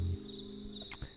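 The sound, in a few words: cricket chirping on a music track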